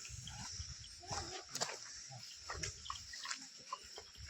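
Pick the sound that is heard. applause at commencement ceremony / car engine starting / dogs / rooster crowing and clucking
dogs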